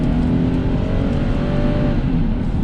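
A high-mileage Infiniti G37x engine revs in a dense, loud, continuous roar, heard close with no talking over it.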